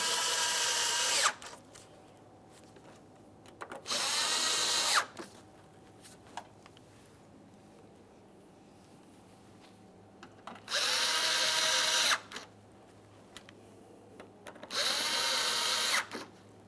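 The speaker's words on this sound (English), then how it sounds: "We'll tighten those 4 mounting screws." A power drill tightens the grille mounting screws on a 2014-2018 Mazda 3, running in four bursts of a second or two each, separated by quiet pauses, near and loud with no talk.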